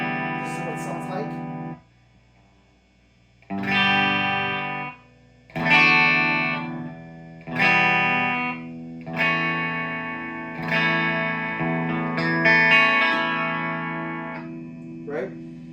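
PRS SE Custom 24 30th Anniversary electric guitar on the bass-side humbucker, a series of strummed chords, each ringing out and decaying, with a short pause near the start, played loud and close with no talking.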